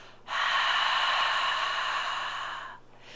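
A single deep exhale through an open mouth during a yoga breathing exercise, close and breathy, lasting about two and a half seconds before trailing off into quiet.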